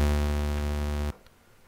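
Massive synth bass built from half square and half saw waveforms, one thick sustained buzzing note held steady for about a second, then cut off abruptly.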